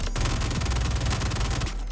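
Gemini F55 light machine gun in the Star Citizen video game firing a sustained, loud automatic burst of rapid, evenly spaced shots with heavy low-end thump, cutting off near the end.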